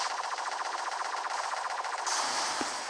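Rapid gunfire rattles steadily through a Death Worm video game battle against robots, a continuous dense machine-gun-like stream that brightens near the end with a brief extra burst.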